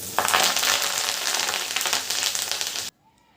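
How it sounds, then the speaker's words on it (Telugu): Curry leaves, mustard seeds, cumin and dried red chillies fry in hot oil as a tempering for tomato pickle, a loud, dense crackling sizzle that cuts off abruptly near the end. "తర్వాత కరివేపాకు వేసి వేగనివ్వండి"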